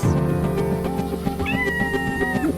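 Cats meowing, several rising and falling calls close by, one long drawn-out meow near the end over a steady low hum.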